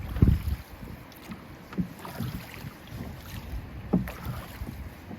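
A rowboat rows among large moored passenger boats, with soft repeated oar splashes and knocks over steady wind noise on the microphone; no talking.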